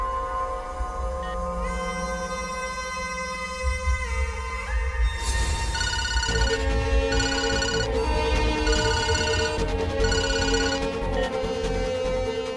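A telephone rings in a Hindi-dubbed action film, playing a melodic electronic ringtone that repeats in regular bursts after a stretch of tonal background score.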